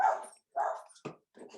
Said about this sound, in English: I do apologize, the dog's barking.